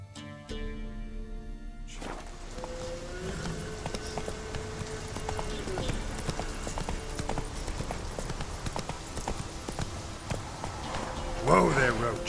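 Roach the horse trotting in Witcher 3, a rhythmic clip-clop of hooves at moderate pace, clear and close over a low ambient bed, with a brief voice near the end.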